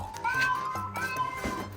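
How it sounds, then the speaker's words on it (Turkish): A house cat meows in a few short, insistent calls that rise and fall, close by, while a voice talks around them. "Tony çok miyavlıyorsun ne dediğini anlamıyorum."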